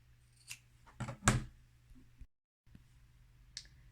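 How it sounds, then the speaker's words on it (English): Scissors snipping the corners of sewn fabric for a bowl cosy, a few sharp close clicks and snips with a louder cluster in the middle and quiet pauses between. "I'm just going to snip the corners just to remove some of the bulk."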